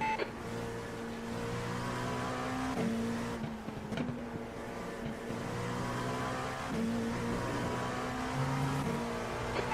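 Race cars in a racing video game round of the IMSA series at the Nürburgring Grand-Prix circuit roar steadily, engine tones rising and shifting as a car passes close by, with brief gear-change breaks and no talking.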